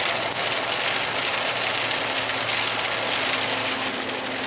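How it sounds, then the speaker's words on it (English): Heavy rain pours down steadily during a Christmas-season downpour in Campbell River, a dense, loud, continuous hiss with no breaks and no voices. "the rain is coming down hard. Just listen to that rain."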